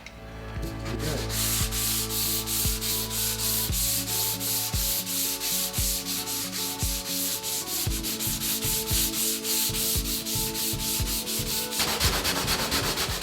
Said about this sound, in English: I'm just going to wrap it around the block of wood and then sand the surface.